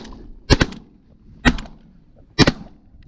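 Shotgun blasts during a waterfowl hunt, three loud sharp reports spaced about a second apart, each with a short echoing tail, out in the open with no talk over them.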